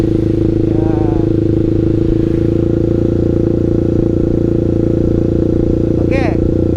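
A manual-clutch motorcycle climbs a hill in first gear, its engine droning loud and steady close to the microphone, with a brief voice rising faintly over it twice.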